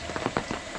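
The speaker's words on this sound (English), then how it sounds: "we got a rainy, crappy day" Rain falling on a rainy fall day at a Vermont state park campsite, a steady close patter with a few louder drops landing on a nearby surface, no voices.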